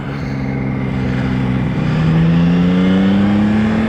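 A motorcycle engine revs and accelerates hard while riding through a 50 zone, its low, steady drone rising in pitch as the throttle opens, close and loud throughout.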